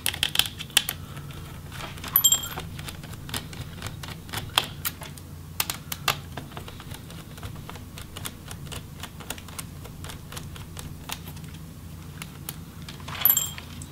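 A 2.5 Phillips screwdriver backs out the hinge screws on a Dell G3 3579 laptop, giving a steady scatter of small, close metallic clicks and ticks over a low hum.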